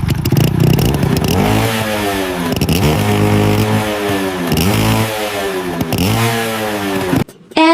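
An old moped engine revved hard at full throttle, close and loud, in repeated surges that climb in pitch and then drop back, about five rising and falling revs with rattling clatter before it suddenly cuts off near the end.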